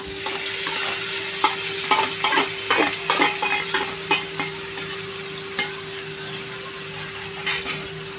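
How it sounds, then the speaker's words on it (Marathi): Chopped ridge gourd goes into a pan of frying onions with green chili and garlic and is stirred. There is a soft steady sizzle and repeated scraping, clinking stirring strokes up close. "कांदा आपला आता लाईट गुलाबी झालेला आहे एकदम। तर आता आपण ह्याच्यामध्ये हा दोडका टाकणार आहोत।"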